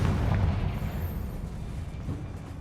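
A Confringo fire spell blasts in the Hogwarts Legacy game, giving a dense, rumbling explosion that rolls on low and heavy for the whole moment before slowly thinning out.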